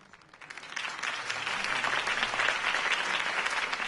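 A crowd applauds after a campaign speech, the dense clapping swelling quickly from a quiet start into sustained, loud applause that carries on to the end without a pause.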